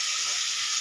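Potatoes sizzle steadily in hot oil in a pan, a continuous bright frying hiss with no voices, as the base for a Bengali pangas fish curry with brinjal.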